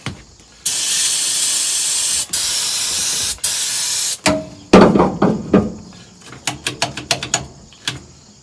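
An aerosol can sprays cleaner onto the shifter of a 1969 Dodge Charger in three long, loud, close hissing bursts. Sharp metallic taps and clicks follow as the shifter is worked.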